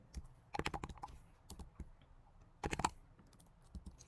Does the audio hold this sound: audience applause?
no